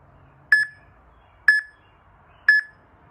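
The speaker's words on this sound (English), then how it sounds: "It will beep when it gets closer to the rest period." A Tabata workout app timer gives three short, bright electronic beeps spaced evenly about a second apart, clear and close against near silence.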